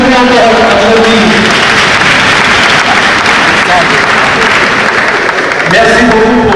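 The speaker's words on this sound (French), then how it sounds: "Merci beaucoup, l'Assemblée applaudie." An assembly at a book launch for a justice vice-ministry applauds. A sustained roar of clapping fills the middle of the clip, with a person talking just before it begins and again as it fades.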